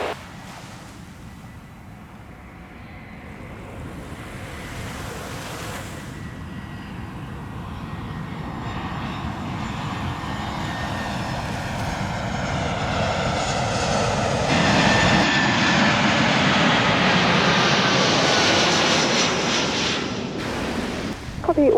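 A passenger plane lands on runway 27 at Gibraltar. Its jet roar swells steadily from a distant hum to a loud, close peak, then cuts off sharply, over a wash of nearby sea and wind.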